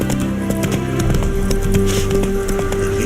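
Horse hooves galloping in the video game Witcher 3, a steady clip-clop rhythm running close and loud through the whole stretch over game music, with no talk.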